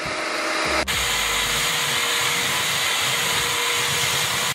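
A Hoover ONEPWR cordless vacuum cleaner runs steadily and loudly, shifting to a stronger, higher-pitched whine about a second in as if switching from eco to high power mode, then droning evenly with no talk.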